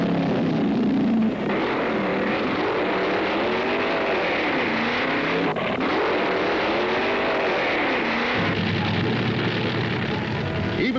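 Vintage 1960s–70s Ford drag racing rail engine making 1,500 to 1,800 horsepower, a loud sustained roar with rising and falling revs that swell and dip throughout, ending in a lower steady drone.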